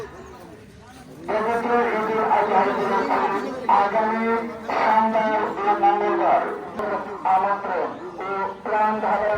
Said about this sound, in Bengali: শহীদ ভাই ওনার গরু।